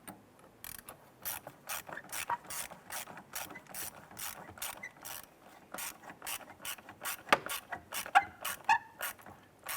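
Ratchet tightening a hose clamp on the throttle body of a 2007-2012 Nissan Versa, a rapid run of close, crisp clicks in short bursts, with no talking.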